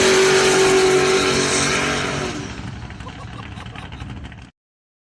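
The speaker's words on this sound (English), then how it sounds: "laid out a big burnout like this" A car lays down a big street burnout: a loud, harsh roar of spinning tires and engine dominates for about two seconds, then thins and fades before cutting off abruptly.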